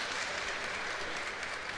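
Applause from the crowd at a professional boxing bout, a steady, even wash of clapping that fills the arena throughout, with no clear voices above it.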